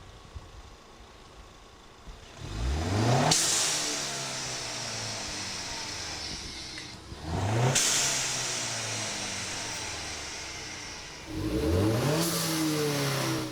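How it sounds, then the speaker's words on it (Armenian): A car engine revs hard three times, each burst of throttle held for a few seconds and then released so the note falls back toward idle, loud and close with a hissing edge and no talk. "ես հիմա գազ պահեմ, հետո թողեմ, տեսնեք ինչ հետաքրքիր ինքը ձայներ է հանում"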